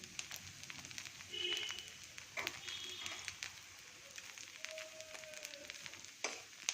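Ghee sizzling in a frying pan while a dosa-like batter cooks, a faint soft crackle with occasional light scrapes and clinks.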